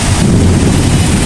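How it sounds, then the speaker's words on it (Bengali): A heavy afternoon rainstorm roars as a dense, steady wash of rain with a deep rumble of thunder underneath, continuous and loud throughout, with no voices. "আর প্রচুর পরিমাণ বাজ পড়তেছে, আপনারা শুনতে পাচ্ছেন।"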